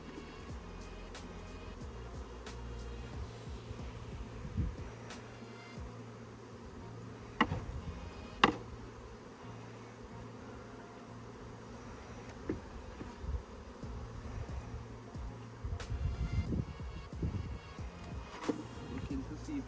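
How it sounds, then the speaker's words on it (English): Honey bees buzz around an open hive while a beekeeper moves frames to boost a weak colony. The humming is continuous and moderately quiet, with occasional clunks and handling noises over a steady drone. "I am gonna get some frames from a strong colony and boost this weak hive."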